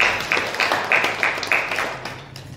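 Church congregation at a Telugu Sunday service clapping in unison for the pastor: steady rhythmic claps, about eight evenly spaced beats, fading toward the end, with no one speaking.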